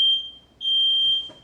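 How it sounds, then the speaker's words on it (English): A household smoke alarm going off for no reason with no fire present sounds a loud, steady high-pitched electronic tone. The tone cuts out briefly, then resumes, with no voices. "after my fire alarm randomly going off for 10 minutes for no reason"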